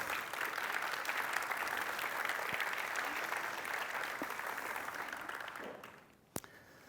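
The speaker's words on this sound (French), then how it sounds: "Donc on pourra les applaudir." Steady audience applause fills a conference hall at the sold-out Agile Tour Toulouse 2024 open forum, holding level for about six seconds before fading out, with a single sharp clap or knock near the end.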